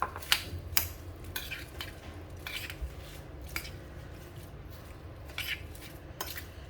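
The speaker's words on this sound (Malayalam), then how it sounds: "ഇനി നമ്മൾ തയ്യാറാക്കി വെച്ചിരിക്കുന്ന ഉള്ളിയിലേക്ക് ഈ മുളക് പൊടിയും എണ്ണയും എല്ലാം കൂടെ ഒഴിച്ച് കൊടുക്കാം." A spoon clinks against a bowl while sliced onions are mixed with chili powder and oil, giving scattered sharp taps and soft scraping, close and quiet with no talking.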